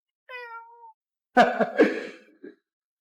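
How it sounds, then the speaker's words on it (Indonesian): A stray cat gives one clear, drawn-out meow, followed by a louder, rougher and more strained caterwauling call with harsh overtones, both close by with a short silence between them. "Seekor kucing liar saja."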